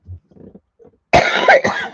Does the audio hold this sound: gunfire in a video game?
no